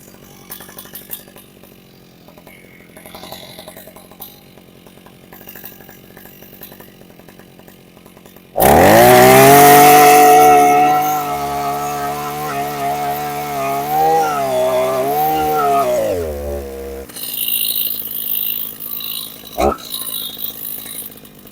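A Husqvarna 541EA earth auger motor whines loudly under load for several seconds as it drills into ground and binds, its pitch sagging and wavering, then cuts off. Quieter handling sounds come before and after.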